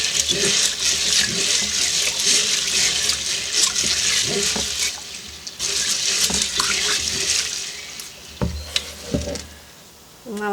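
Tap water runs steadily and loudly into a kitchen sink to fill a pot for rinsing dry pinto beans, with a continuous splashing hiss and a few clunks near the end as the flow is shut off.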